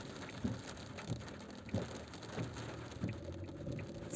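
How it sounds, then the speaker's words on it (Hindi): Heavy stormy rain drums steadily on a car driving along a motorway, a dense continuous wash with occasional louder thumps of water hitting the vehicle. "तूफ़ानी बारिश है।"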